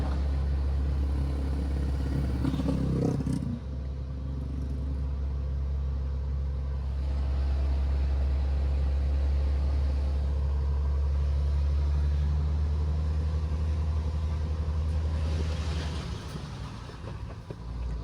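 A heavy truck engine in fourth gear hauling a 50-ton load in Euro Truck Simulator 2, a steady loud low drone that holds throughout with a brief surge near the start and a dip toward the end, no talking.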